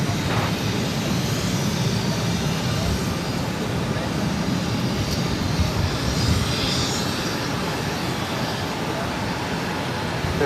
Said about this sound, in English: This is Spirit Airlines 975 taking off to Newark on the A320.